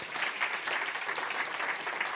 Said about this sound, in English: keep on applauding them up